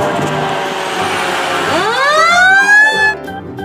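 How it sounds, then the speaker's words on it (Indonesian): A toy fire ladder truck sounds its electronic siren, loud and close, with a rising wail over a busy mechanical drone that fades out at the end. "Widih, ada truk pemadam kebakaran tangga,"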